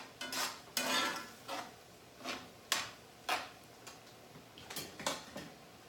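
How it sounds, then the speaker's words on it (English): Toasted orzo and shrimp stirred in a skillet with a little lemon, a series of distinct spoon scrapes and soft clinks against the pan, about eight separate strokes in an uneven rhythm, close and fairly quiet. "Let's stir that up."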